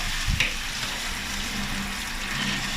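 Water runs and splashes steadily while the tank of a Hatari AC Turbo1 evaporative fan cooler is rinsed out. The wash is close and continuous, with a brief knock near the start and no talking.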